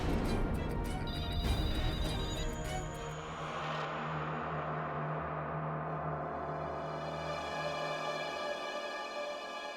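A telephone rings inside a forest temple in a horror drama scene, an electronic ringtone that starts loud and then rings on steadily with a sustained tone.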